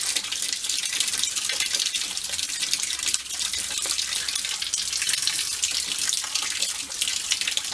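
Water runs steadily from a tap in Pensacola, Florida, as a continuous close hiss and splash that lasts the whole time without pause.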